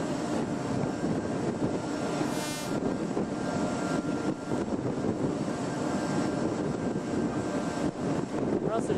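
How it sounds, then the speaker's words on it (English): A helicopter lands on the deck of a Russian warship, heard from aboard a nearby US Navy supply ship. A constant, loud engine and rotor roar fills the whole stretch without letting up. "An American helo landing on a Russian battleship."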